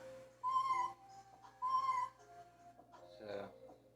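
A small toy cat gives two short, faint electronic meow-like chirps about a second apart, followed by a brief softer squeak.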